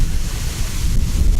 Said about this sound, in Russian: Ветер, сами видите какой.